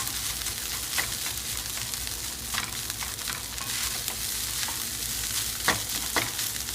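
Vegetarian fried rice with garlic and chili peppers stir-frying over high heat, a steady loud sizzle with scattered crackles and spatula scrapes throughout, no voices.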